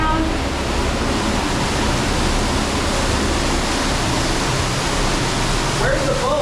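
A waterfall inside a cave sinkhole pours in a steady, loud, hissing rush that fills the whole clip, with a short faint voice-like sound near the end.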